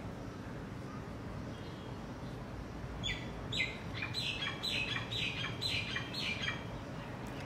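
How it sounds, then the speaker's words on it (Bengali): Birds chirp outdoors in a hill setting, a run of quick high calls starting midway and repeating rapidly over a low steady background rumble, fairly faint. "পাখির আওয়াজ শুনতে পাচ্ছো?"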